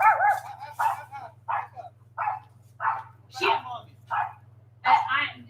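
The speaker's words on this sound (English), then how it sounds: "that's my dad's dog" A dog barks repeatedly indoors, a series of about nine sharp, close barks and yips at an irregular pace, with a steady electrical hum underneath.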